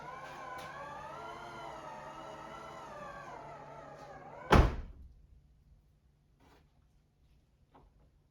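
The door of a 2021-2026 Toyota Sienna minivan is pushed shut by hand, ending a steady whining tone with one loud, close slam, followed by near silence and faint clicks.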